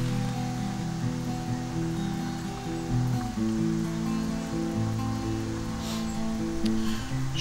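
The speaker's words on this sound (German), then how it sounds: "Ich wollte an der Stelle nochmal erwähnen, dass ich das Geräusch des Regens sehr mag." Rain falls steadily at night outdoors in the wild, a dense continuous patter that stays even and close throughout, with no voices.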